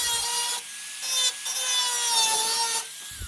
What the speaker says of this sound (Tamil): இப்போ அதை வந்து நம்ம ஒரு பாஸ் ஷேப்பில் மட்டும் கட் பண்ணி எடுத்துக்கலாம்.